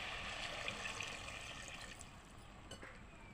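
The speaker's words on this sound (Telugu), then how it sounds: "కప్పడి పప్పుకు నేను చెంబడి నీళ్ళు పోసుకుంటా" Quiet trickling and pouring of water onto lentils, a soft steady stream filling a vessel, faint and close with no talking.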